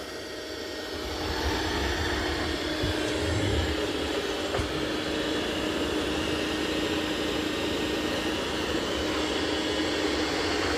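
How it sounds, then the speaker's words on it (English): A Mova P50 Pro Ultra robot vacuum vacuums and mops at once, a steady mechanical hum and whir running throughout, a continuous motor drone with a broad hiss, fairly loud and even, with no talking. "So it is vacuuming and mopping at the same time."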